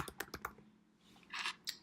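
A computer keyboard is typed on as a search term is entered: a quick run of close, crisp key clicks, a short pause, then a few more taps, quiet and without speech.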